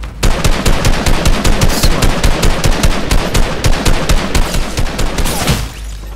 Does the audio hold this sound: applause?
no